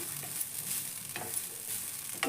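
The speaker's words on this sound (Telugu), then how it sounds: "పచ్చి కొబ్బరి వేసుకొని బాగా దూరగా వేయించుకోవాలి" Fresh grated coconut is fried in a pan with a little oil, giving a soft, steady sizzle broken by a few scraping stirs. The sound is close and fairly quiet, with no talking.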